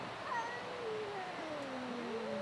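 A cat howls in long, drawn-out, wavering yowls, fairly faint as if from some distance, continuing without pause.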